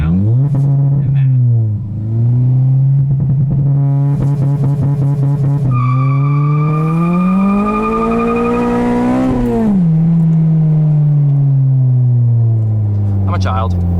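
A 2009 Honda Civic Si with a K24 engine swap and aftermarket exhaust revs up close and loud, rising and falling in pitch across several sustained pulls, with a brief tire-like squeal midway.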